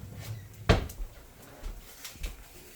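A single wooden bump or slide, like a drawer pulled open, followed by a few faint knocks in a quiet room.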